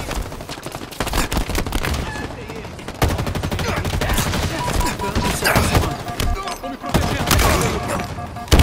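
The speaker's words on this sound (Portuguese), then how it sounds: "Granada saindo." Halo Infinite multiplayer firefight with dense, continuous automatic gunfire and a grenade blast among the shots, loud and chaotic, with brief surges in intensity throughout.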